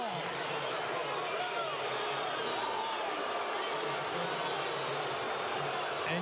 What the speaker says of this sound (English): you can hear the crowd here at Target Center